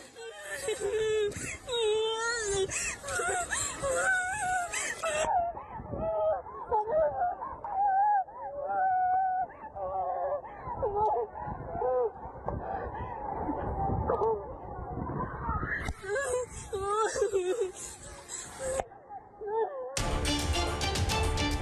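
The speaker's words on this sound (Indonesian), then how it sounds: "Teriakan dan tangisan terdengar dari laut dan di atas kapal" Distant people screaming and wailing in distress from the sea and aboard the burning passenger ship KM Barcelona 5 near Talise Island, with high cries and moaning voices, overlapping and chaotic, continuing throughout.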